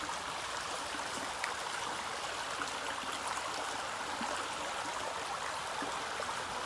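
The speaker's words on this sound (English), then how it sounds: "Look at this beautiful creek." A creek flows beside a summer campsite, a steady soft rush of running water with faint trickles, continuous and unbroken with no voices.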